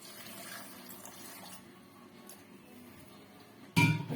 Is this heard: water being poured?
yes